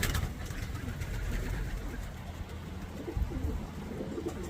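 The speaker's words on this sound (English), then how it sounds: "listening to those birds coo" Racing pigeons of the Sion breed coo steadily inside a loft, a soft, continuous murmur of overlapping calls over a low background hum, with no talking.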